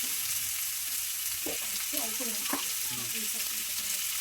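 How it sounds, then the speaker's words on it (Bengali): Potatoes sautéing in fish oil in a pan, a constant bright sizzle with a few spatula scrapes and clinks partway through, close up with faint voice sounds underneath. "তো আলুটাকেও এর সাথে আমরা এখন কষিয়ে নেবো"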